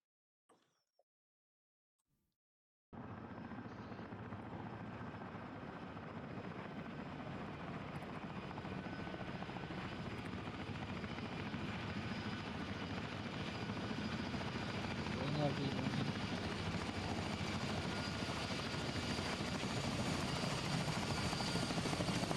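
A military helicopter during air assault training flies overhead, its rotor and engine roar starting abruptly and holding as a loud, steady, slightly pulsing drone with voices faintly underneath.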